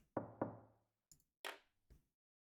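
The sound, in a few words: knocking on a door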